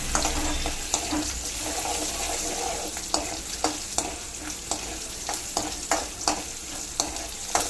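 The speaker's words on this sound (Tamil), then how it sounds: "எண்ணெய் காஞ்சோடனே சின்ன வெங்காயம், சுண்ட வத்தல் எடுத்து வச்சுருக்கேன், அப்புறம் வெந்தயம் கொஞ்சம், இது மூணையும் வந்து போட்டு நல்லா வறுக்கணும்." Shallots, dried turkey berries and fenugreek seeds fry in hot sesame oil with a steady close sizzle, broken by regular sharp clinks and scrapes of a stirring spoon against the pan; no one speaks.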